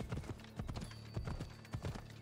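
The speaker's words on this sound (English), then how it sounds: "Holy crap, this horse is slow." Horse hooves clip-clop in the Assassin's Creed Odyssey video game as a slow, plodding horse walks. The steps come in close, uneven pairs, fairly quiet against a low background hum.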